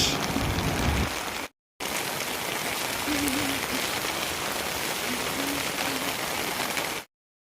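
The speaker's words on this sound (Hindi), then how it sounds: "ओह बारिश का मौसम, ठंड ही ठंड, बारिश ही बारिश।" Steady rain patters on surfaces, a constant wash of drops that briefly cuts out once and then stops abruptly.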